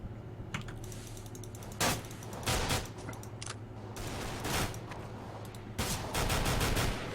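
Counter-Strike: Global Offensive match gunfire, with short bursts and single shots cracking at moderate distance among clicking sounds and a steady low hum, the heaviest bursts landing near the end.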